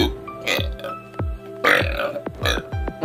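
A loud belch in a burping contest, several sharp eructations in quick succession with brief gaps, close and dominant, with faint talk between them.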